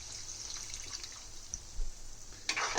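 Tamarind water pours steadily into a pot with a soft, continuous splashing trickle, close and moderately quiet, with a brief louder splash near the end.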